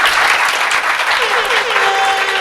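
Loud, close studio-audience applause at a TV show, dense clapping with a crowd roar throughout and a voice speaking over it near the end.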